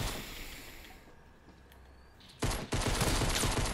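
Bursts of gunfire in a Fortnite Battle Royale match: quieter shooting and ambient noise at first, then a loud, dense volley of rapid shots filling the final second and a half, with no talk.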